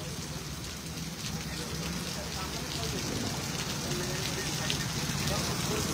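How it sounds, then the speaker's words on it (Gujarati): Heavy night rain pours over the city of Vadodara, a dense, even hiss that holds steady and fairly faint throughout, with no clear voices above it. "આપ જોઈ રહ્યા છો દર્શક મિત્રો જે રીતે વરસાદ વરસી રહ્યો છે"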